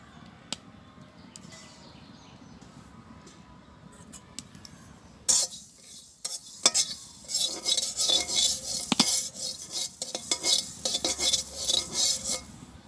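Cumin and coriander seeds are dry-roasted in a pan on a village stove. After a quiet start come repeated loud scraping and clinking stirring strokes of a utensil against the metal pan, in an uneven rhythm.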